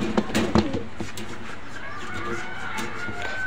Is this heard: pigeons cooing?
yes